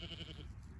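Sheep and baby goats on a farm bleat in a few short, wavering calls during the first half second, followed by quieter low rustling and movement nearby.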